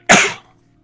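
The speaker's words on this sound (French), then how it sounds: "C'est toujours au moment où je fais une vidéo que j'ai envie d'éternuer." One short, sharp sneeze bursts out close to the microphone and fades quickly into near silence.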